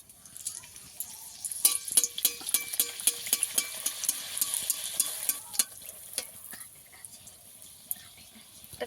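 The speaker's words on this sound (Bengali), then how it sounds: "ফুচকাগুলো ভেজে নেব।" Fuchka puris deep-frying in oil in a wok, a busy crackle of sharp pops and spatters over a steady sizzle that swells and then eases toward the end.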